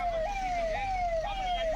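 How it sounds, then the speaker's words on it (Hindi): Ambulance stuck in a traffic jam in Patna, its siren wailing in a repeating two-tone pattern, loud and close over a low traffic rumble. "ट्रैफिक की वजह से एम्बुलेंस को रोकना पड़ा, जाम की वजह से एम्बुलेंस यहां फंसी हुई दिखी।"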